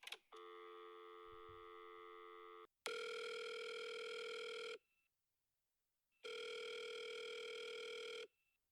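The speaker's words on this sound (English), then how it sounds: "had quite a funny ringtone there" Phone ringback while calling a patient abroad: a long steady tone, then two loud, rich electronic ringing bursts of about two seconds each separated by silence, heard clearly with no talk.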